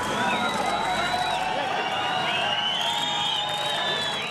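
Fans at Ferrari Formula 1 testing cheer and shout in a dense, sustained crowd roar, with many overlapping voices whooping loudly throughout.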